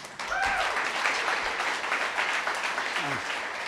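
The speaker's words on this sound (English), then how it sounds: "Let's give Noel a big round of applause" Loud, dense audience applause at a New York City data conference as a guest is welcomed to the stage, sustained evenly throughout, with a few brief voices and whoops rising faintly above the clapping.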